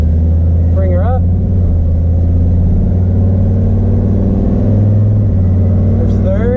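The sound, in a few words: boosted 4.8 engine revving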